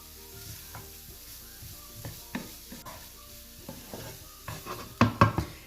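Chopped onion and mutton mince stirred in a frying pan, a soft sizzle under scattered scraping strokes that grow louder and sharper toward the end.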